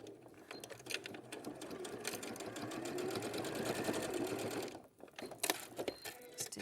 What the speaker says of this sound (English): I'm actually going to get to the sewing machine.